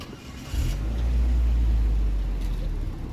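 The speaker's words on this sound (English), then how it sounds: "I got cars coming at me from both directions" Cars pass on a busy downtown Toronto street on a Saturday afternoon, a loud low engine rumble swelling close by and holding steady before easing off slightly.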